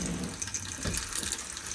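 Water running from a hot and cold tap at a motorhome vanity unit, a steady close splashing stream into the basin, with no talking.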